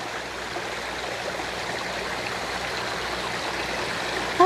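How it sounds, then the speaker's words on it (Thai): Stream water flows in a steady, even rush, close and moderately loud, with no voices over it. "สดชื่นจังเลยได้กินน้ำได้เสียงน้ำ"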